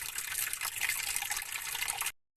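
Water pours steadily from a tap or container over salted milkfish soaking in a bowl, a close, continuous splashing gush that stops abruptly near the end.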